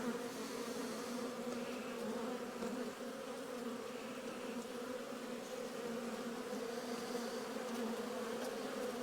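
Honey bees buzz steadily at an open hive during a spring inspection, a constant close drone with no voices.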